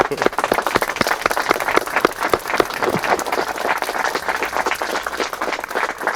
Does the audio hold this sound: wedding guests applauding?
yes